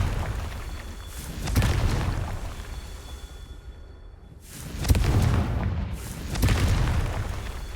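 Confringo blasting spell going off in Hogwarts Legacy, heard as several loud booming explosions that come in two groups with a quieter gap between them, each with a rumbling tail, and no talking.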